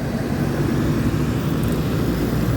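Two tronton parcel trucks pass on a road at the entrance gate to Palembang city, a loud, steady low engine roar and road noise sustained close by.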